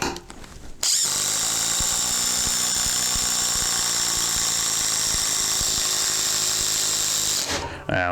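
A Ryobi HP heavy-duty impact driver runs steadily for about seven seconds, driving timber screws with a loud, rapid rattling hammer whine, then stops abruptly.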